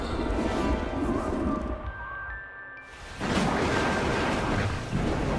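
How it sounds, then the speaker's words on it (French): A loud, deep rumble of thunder in the animated series Rahan rolls in broadband waves, fades briefly to a quieter lull with a faint ringing tone, then surges back heavily. "j'avais jamais entendu le tonnerre aussi fort."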